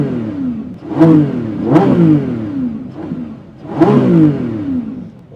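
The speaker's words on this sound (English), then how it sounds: "we can rev it and we can listen up to the amazing sound of the Lamborghini Revuelto" A 2024 Lamborghini Revuelto's 6.5-liter naturally aspirated V12 revs hard in three loud, close bursts, each surging up and falling back with a rising whine between the blips.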